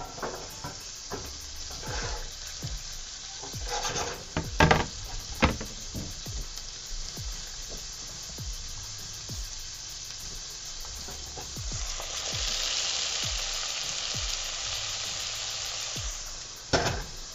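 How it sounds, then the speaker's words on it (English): Roughly two pounds of trimmed asparagus frying in butter in a pan, a steady close sizzle broken by clattering stirring knocks and scrapes, with a louder hiss swelling near the end. "I'm going to throw in the roughly 2 pounds of trimmed asparagus"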